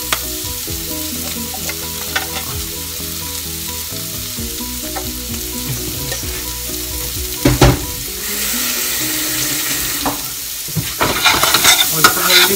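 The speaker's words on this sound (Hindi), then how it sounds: "आप मटर को अच्छे से फ्राई कर लें" Peas fry with a cabbage and mint mixture, making a loud, continuous sizzle broken by irregular stirring scrapes and clatter that grows busier and louder toward the end, with no talking.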